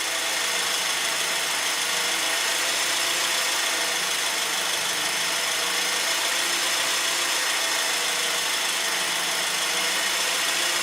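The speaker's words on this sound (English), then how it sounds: "This is cranking." A 2010 Honda Accord engine cranks over continuously, a steady, moderately faint mechanical whir with a broad hiss and no clear catch or pause.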